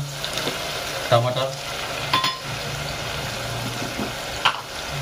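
Spice paste frying in a pan for mutton tambda rassa curry, a steady close sizzle broken by a few short clinks and scrapes of a utensil stirring against the pan.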